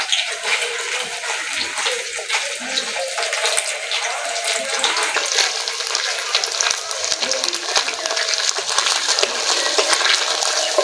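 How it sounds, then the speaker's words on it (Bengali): Cubes of paneer fry lightly in hot ghee for a vegetarian paneer dish, giving a steady, close, bright sizzle with dense crackling spits that runs unbroken and grows slightly louder toward the end, with no talking. "বেশি ভাজবো না একটু হালকা ভেজে নিলে হবে"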